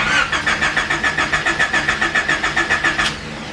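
A project car's engine cranks over in a steady rhythmic churn of about a dozen loud, close starter pulses before stopping, with no ignition and no talk.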